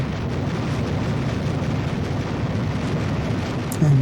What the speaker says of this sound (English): the artillery units were given the order to open fire, and from this point onwards, the skies above Los Angeles erupted like a volcano